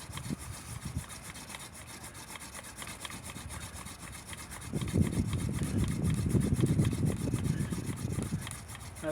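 Hand drill friction fire on an incense cedar baseboard, a wooden spindle rubbing and grinding in a steady back-and-forth rasp that grows louder and faster in the second half, close up with no talking.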